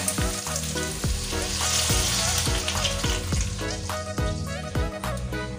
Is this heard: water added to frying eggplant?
yes